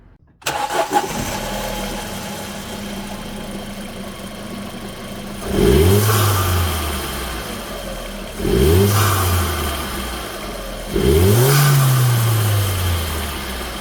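A 2005 Audi A4 1.8T Quattro engine cranks and catches, settles into an idle, then revs sharply three times, each burst climbing and falling back.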